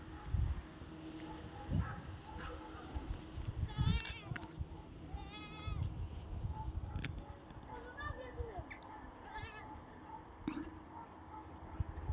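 Sheep bleat several times at moderate distance outdoors, their wavering calls recurring over steady background noise with quiet talk and whispering throughout.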